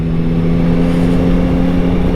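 A nearly new 2023 Yamaha MT-09 motorcycle engine with only a few kilometres on it gives a loud, close, steady mechanical drone with a strong low hum and no voices.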